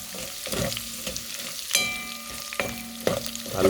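Bottle gourd sautéing in a pan outdoors, with a soft sizzle under repeated scraping and clanking as a utensil stirs it, giving several sharp metallic knocks against the pan.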